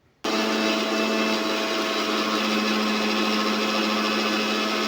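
A mixer grinder blends ghee with water, running as a loud, steady, high-pitched whir that starts abruptly and holds without a break.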